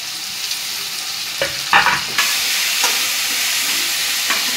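Potatoes tipped into a hot frying pan, with loud steady sizzling and hissing broken by a few sharp bursts as they land and are stirred.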